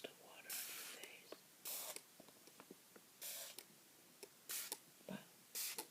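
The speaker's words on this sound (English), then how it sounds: "So let me know if you enjoy the sound of the spray bottle." A spray bottle misting water onto different surfaces, five short hissing bursts spaced irregularly, soft and close, with faint ticks and quiet whispery sounds between them.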